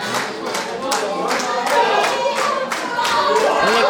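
A wrestling crowd claps in quick, uneven bursts, fairly near and loud, with a few voices mixed in among the steady hand claps.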